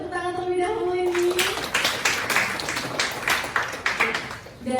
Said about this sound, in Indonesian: Boleh tepuk tangan terlebih dahulu ini.